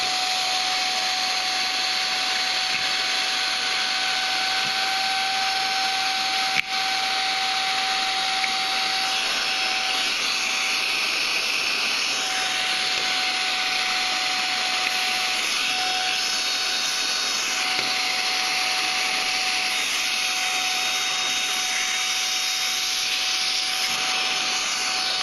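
Baseus A2 Pro portable USB-C rechargeable car vacuum running continuously with a high steady whine while picking up clumps of raisins, close and loud, with occasional small clicks of debris.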